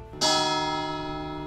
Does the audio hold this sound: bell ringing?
yes